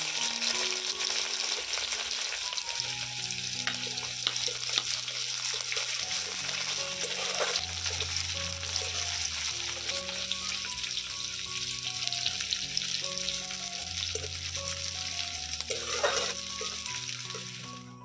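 Chopped onions sizzle in a hot pan, a steady bright frying hiss running continuously under soft background music, with occasional faint stirring clinks.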